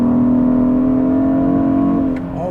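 A 2021 Hyundai Sonata N Line engine holds a loud, steady drone in strong drive mode, sustained from inside the cabin, then eases off slightly at the end.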